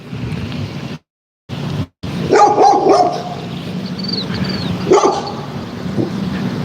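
A dog barks in a few loud, close bursts outdoors, with short gaps of silence between and a steady background hum throughout.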